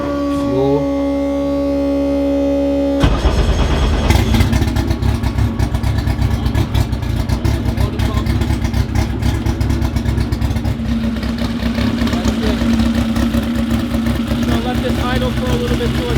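A car engine called Big Mosh 2, fitted with a water pump, starts abruptly after a quiet electrical hum, then settles into a loud, steady, gritty idle that carries on without a break.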